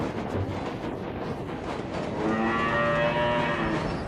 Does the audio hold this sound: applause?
no